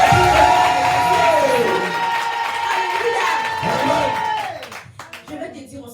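A church congregation at a conference acclaiming the Lord with loud cheering, whoops and applause, a crowded roar of raised voices and clapping that swells and then tapers off into scattered claps.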